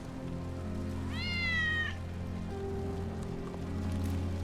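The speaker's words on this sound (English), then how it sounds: "That's Wedge's cat." Cat meowing in Final Fantasy VII Remake, one clear rising meow over a steady low hum of game ambience, followed by faint softer tones, close and moderately quiet.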